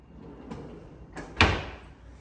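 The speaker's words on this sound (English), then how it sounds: "So you've got two nice big freezer drawers there." A freezer drawer on an integrated fridge freezer in a house kitchen slides and closes, two soft rolling movements followed by a firmer thud, close by with no talking.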